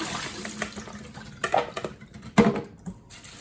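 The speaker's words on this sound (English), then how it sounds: "You wanna rinse in the running water, cold water, and you wanna strain it." Water splashes and patters irregularly as ong choy (water spinach) is rinsed under a running cold tap, with scattered clatters and drips close by.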